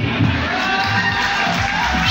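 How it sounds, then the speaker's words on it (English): An audience cheers, whoops and applauds at a gala evening for a business network anniversary and award presentation. The dense crowd noise is loud and sustained throughout. "A huge round of applause for me,"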